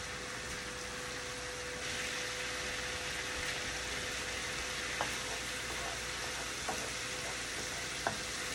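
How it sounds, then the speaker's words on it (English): A wine-laced sauce simmers in a pan, making a soft, steady bubbling hiss with a few faint clicks, quiet and continuous with no voices. "I'm gonna let that simmer a bit until it starts evaporating some of that alcohol"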